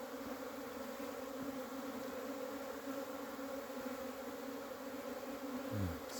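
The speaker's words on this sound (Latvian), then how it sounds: "Tāda pirmā pa ilgiem laikiem aplidošanās, kad ir sniegs apkārt, bet bites kvalitatīvi tomēr aplidojusi." Honeybees make their first cleansing flight of the year around a hive amid snow in late February, a steady, dense buzzing hum of many insects close by, continuous throughout with no talking.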